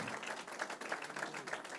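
A church congregation applauds at a pastors' gathering, a dense, steady patter of many hands filling the whole stretch at moderate level without a break.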